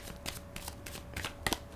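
Tarot cards are shuffled close by in quick, quiet riffling bursts, with a slightly louder snap near the end.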